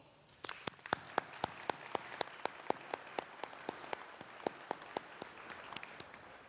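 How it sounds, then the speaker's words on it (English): Sparse, separate claps at a winter commencement ceremony, a handful of people applauding the college team with distinct, evenly spaced hand strikes, fairly faint against a quiet room. "Please join me in recognizing all the members of our Nova team with a round of applause"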